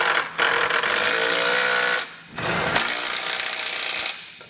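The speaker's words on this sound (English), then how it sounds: "come back with our socket and snug them all down." A power socket tool tightens trailer hitch bolts under a 2020 Mini Cooper, a loud continuous mechanical whirring and rattling that runs for about two seconds, pauses briefly, then runs again, up close without talking.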